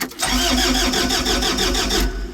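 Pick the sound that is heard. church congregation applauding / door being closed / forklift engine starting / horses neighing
forklift engine starting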